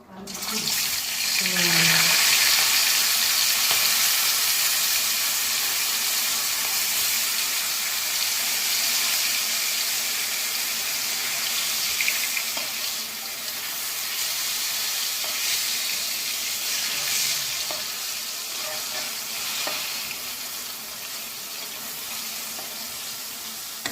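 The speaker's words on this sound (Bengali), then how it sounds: "এবার তেলটা গরম হলেই গরম তেলে সুন্দর করে মাছগুলোকে ভেজে নেব।" Small fish, coated in salt and turmeric, frying in hot oil on a gas stove: a steady, close, broadband sizzle that holds throughout, with brief spatter bursts near the start, and no talk.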